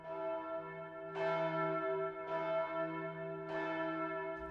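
Church bells ring at Montserrat in Catalonia, a rich, sustained peal with three fresh strikes about a second apart over a steady humming resonance, loud and close with no voices.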